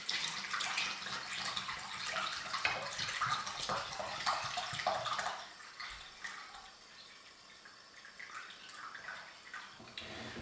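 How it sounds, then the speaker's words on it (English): Cold brew coffee poured through paper filter into a Chemex, a steady close liquid splashing and trickling for about five seconds, then softening into quieter dripping. "We're going to pour our coffee into the Chemex through the filter paper"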